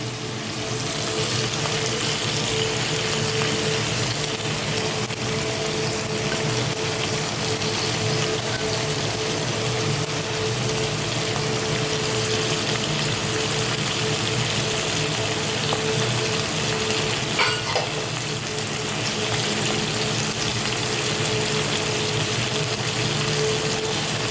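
Chopped bottle gourd peels fry in a pan, giving a steady, dense sizzle with light crackle that runs unbroken throughout, close and fairly loud, with no voices.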